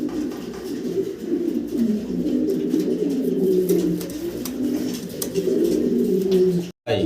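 Black Pomeranian Pouter pigeons coo in a steady, low, continuous murmur from close by, with layered throaty calls and no talk, cut by a brief dropout near the end.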